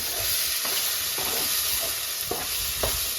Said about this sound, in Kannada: ಎರಡು ನಿಮಿಷದವರೆಗೂ ಟೊಮೆಟೊ ಫ್ರೈ ಮಾಡ್ಕೊಂಡ ನಂತರ ನಾನು ಮಟರ್ನ ಹಾಕೊಳ್ತಿದ್ದೀನಿ.